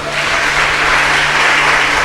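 A church congregation claps in praise during a worship service, a steady, loud wash of applause filling the room without pause.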